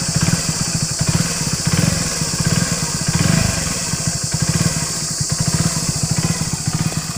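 A Hero Splendor BS6 motorcycle engine idles after starting, producing a steady, close, rhythmic putter of even firing pulses that holds alone throughout.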